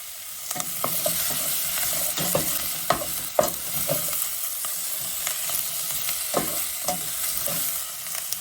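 Spinach sautés with onions in a pan, a steady close sizzle punctuated by rhythmic scraping and tapping stirs throughout.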